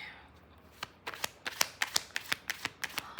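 Tarot cards shuffled by hand, a quick run of crisp riffling snaps that starts softly and builds into about a dozen distinct flicks, close and fairly quiet.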